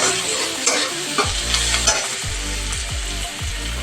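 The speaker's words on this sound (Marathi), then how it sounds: "हे सगळं असं पूर्ण भाजून घ्यायचं आहे व्यवस्थित" Tomato and ginger are stirred and roasted in an oil-filled pan for village-style chicken, with steady close sizzling broken by repeated scraping strokes of the spoon, no voices.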